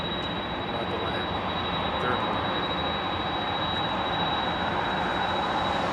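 Airplane engine drone heard from inside during the approach to land at Anchorage, a loud steady broadband roar with an unchanging hum and a thin high tone running through it, with no clear talk.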